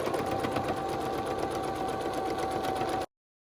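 Sewing machine stitching fabric for a homemade filtered face mask, a steady fast mechanical whir with a constant hum running for about three seconds, close and alone before stopping abruptly.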